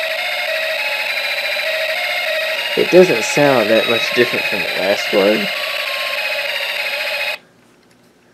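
A Snap Circuits alarm IC set to mimic a machine gun gives a loud, continuous electronic buzzing tone that cuts off abruptly near the end, with someone talking over it.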